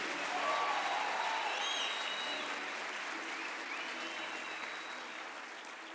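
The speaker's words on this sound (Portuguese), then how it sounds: "aplauda Ele o mais alto que você puder" A worship congregation keeps up dense, sustained applause, a broad crowd roar of clapping that fades slightly toward the end, with faint musical tones and cries mixed in.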